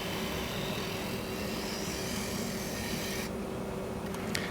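A tool scraping the foot of a Black Limba wood bowl spinning on a lathe, a steady, rough rasping hiss under the hum of the machine, continuous and close.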